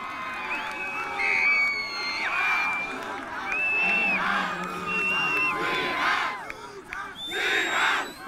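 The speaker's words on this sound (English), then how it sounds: "This Burlington Central crowd is fired up." Burlington Central Trojans home crowd at a high school football game erupting after a touchdown, a dense, loud roar of cheering, whoops and shouts that surges in waves over about eight seconds.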